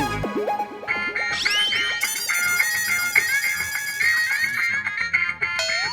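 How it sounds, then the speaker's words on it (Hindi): Phone ringing in a comedy TV episode, a loud electronic ringtone melody with fast rising tones and a layered bright chiming tune that plays continuously for several seconds, with no talk. "ये किसका फोन है?"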